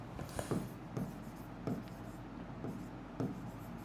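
A word being handwritten on paper, with a soft continuous scratching of the pen and a few sharper strokes at irregular intervals, quiet and close.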